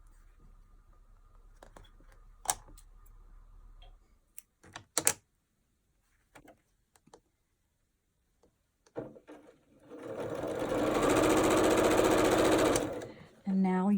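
A sewing machine stitches fabric along a marked line on a sewing project, running in one continuous burst of about three seconds after a stretch of quiet clicks and handling noises.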